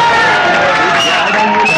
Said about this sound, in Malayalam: പ്രൊഫസർ സിദ്ധുവിനെ എല്ലാവരും കൈയടിച്ച് സ്വീകരിക്കൂ